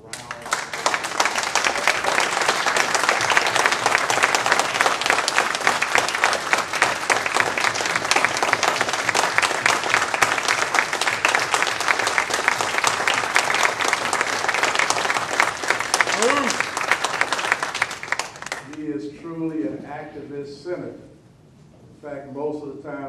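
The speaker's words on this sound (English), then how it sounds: "I'd like for you to give Senator Ford a round of applause" Sustained applause from an audience at an Atlanta town hall meeting honoring Senator Ford, dense steady clapping for about eighteen seconds before tapering off, followed by brief talk.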